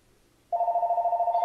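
A telephone bell bursts into a loud, fast trilling ring after a short silence, a steady warbling tone that goes on alone.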